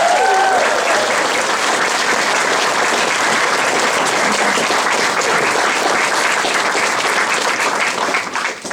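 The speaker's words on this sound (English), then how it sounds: "So just a big round of applause for the gophers in general as well." A convention closing-ceremony crowd gives loud, sustained applause for event volunteers, a dense wash of many hands clapping that stays strong for nearly nine seconds before easing off.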